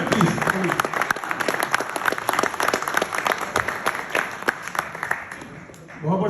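Audience applause at a public gathering, dense rapid clapping from a large crowd, loud and sustained for several seconds before thinning out at the end.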